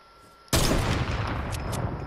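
A sudden sniper rifle shot in a video game, one loud crack that rings out with a long reverberant tail, followed by a couple of faint distant clicks.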